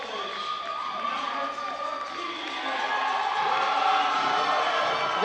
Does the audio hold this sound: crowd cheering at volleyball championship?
yes